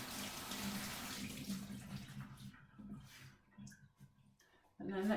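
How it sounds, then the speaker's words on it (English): Vegetables with gritty soil are rinsed under a running kitchen sink tap. The water runs as a steady hiss that thins out and then returns with a louder gush, and a voice speaks faintly in the background. "So I'm just going to wash those under the sink"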